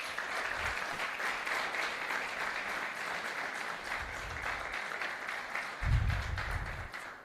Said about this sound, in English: just by giving them a round of applause, please.